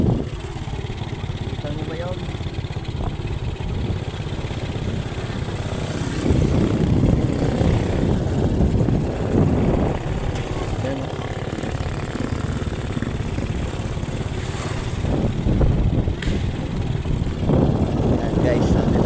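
A motorcycle engine drones steadily as it is ridden home across flat ground, heard close up from the rider's position, with someone talking over the engine at times.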